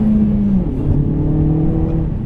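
A Hyundai Veloster Turbo R-Spec with a turbocharged 1.6-litre engine accelerates, its steady drone rising in pitch as the revs climb. Heard from inside the cabin, loud and continuous, with no talking over it.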